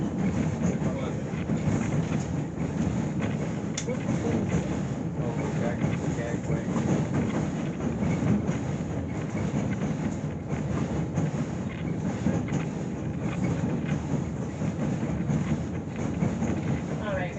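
A White Pass & Yukon Route train rolls along the rails with a continuous rumbling clatter and rushing wind noise, steady and close throughout.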